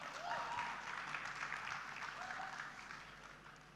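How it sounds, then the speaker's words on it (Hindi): An audience applauds at a Hindi interview event with Avadh Ojha, a broad, fairly faint wash of clapping that tapers slowly, with a brief voice-like sound near the start. "तालियां हो जाएं फॉर सर अवध ओझा।"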